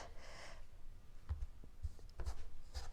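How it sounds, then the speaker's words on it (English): A knife slices an acorn squash into thick rounds, making several soft, dull thuds against the cutting board at irregular intervals over a quiet background with faint rustling. "And we'll just cut these about half an inch to 3/4 of an inch"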